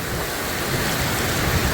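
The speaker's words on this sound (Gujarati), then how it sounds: "ફૂલ પવન સાથે વરસાદ" Heavy rain pours down in a dense, steady roar, with strong gusting wind mixed into the constant hiss.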